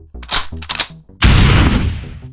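Video game gunfire aimed at bots: a few quick bursts of shots, then a loud, sustained barrage that rolls on and slowly fades, with no talk over it.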